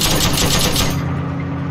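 Rapid machine-gun fire in a shooting video game, a loud, dense burst of continuous shots that fills the short moment.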